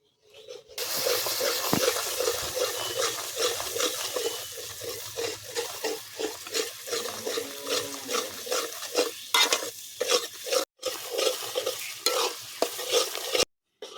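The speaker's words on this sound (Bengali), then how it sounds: "এবার মশলাটাকে কষিয়ে নেব ভালো করে।" Spice masala for a begun (eggplant) curry sizzles and fries in a pan after sour yogurt is added, with steady stirring and spoon scrapes throughout and a few brief pauses, no talking.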